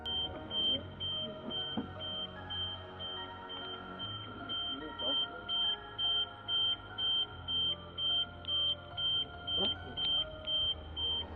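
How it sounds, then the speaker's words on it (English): A car alarm sounds during an attempted vehicle theft caught on a doorbell camera: a steady high electronic tone, then loud rhythmic pulsing beeps repeating through the second half, over a low background rumble. "Despite the car alarm blaring, the thieves astonishingly do not flee the scene"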